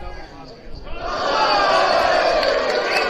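Football crowd at a Christchurch United versus Nomads United cup semifinal, swelling into a broad sustained cheer after a quieter start, with a commentator's voice over it.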